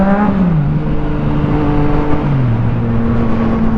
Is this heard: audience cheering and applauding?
no